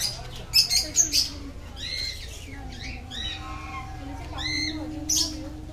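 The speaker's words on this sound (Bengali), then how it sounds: "এখানে দেখো দেখতে পাচ্ছি অনেক খাঁচা রয়েছে আর প্রত্যেকটায় কিন্তু পাখি রয়েছে দেখো।" Several caged birds, including parrots, squawk and chirp in short, shrill bursts, some close by, with a steady low hum underneath, in a park.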